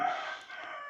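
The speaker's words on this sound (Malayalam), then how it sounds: "ഇവിടെ ഒരു കോഴി കിടന്ന് കരയുന്നുണ്ട് ഗൈസ്" A rooster crows once, loud and close, its drawn-out call holding steady for about a second with no voices over it.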